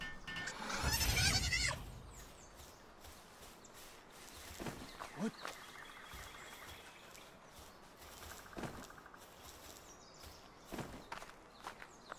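Goat-like bleats from sheep in the video game Palworld, with a louder burst near the start and a few shorter calls later, mixed with game footsteps and ambient noise and no talking.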